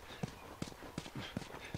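Horse hooves clip-clopping in the video game The Last of Us, a steady walking rhythm of distinct, fairly close hoof strikes, about five in under two seconds, with faint background ambience.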